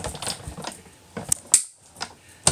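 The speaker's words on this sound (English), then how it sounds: "I ran that through my Big Shot" Big Shot die-cutting machine with a die and plate run through it, giving a series of quiet, sharp mechanical cracks and clicks at irregular intervals, close and faint.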